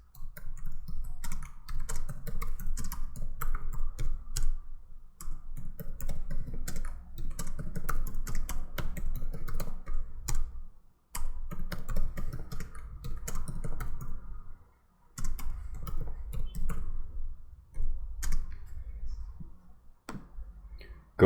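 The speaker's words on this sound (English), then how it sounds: "To verify your database has loaded correctly, go ahead and type the following statements." Someone types SQL statements on a computer keyboard, producing bursts of quick, close key clicks separated by short pauses, fairly quiet and with no talking.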